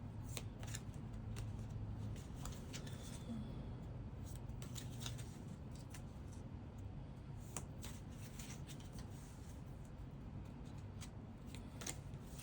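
Tea leaf oracle cards being shuffled by hand during a card reading, giving repeated soft papery riffles and flicks in irregular bursts, quiet and close with no talking.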